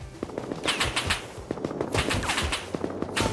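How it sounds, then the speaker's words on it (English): AK rifles fire from a rooftop in an online survival game, rapid automatic bursts of gunfire rattling continuously at moderate volume, with no talking over them. "there's two AK kids shooting at me on their roof right here"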